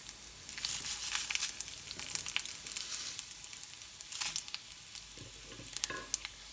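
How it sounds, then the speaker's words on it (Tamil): Urad dal fries in hot oil for a tomato curry leaf chutney, giving a soft, continuous crackling sizzle with scattered pops and light stirring, heard close and fairly quiet with no talking. "எண்ணெய் நல்லா காஞ்சிருந்ததுன்னா உளுந்தம்பருப்பு போட்டு கரெக்டாக 1-30 செகண்ட்ஸ் ஃப்ரை பண்ணால் போதும்."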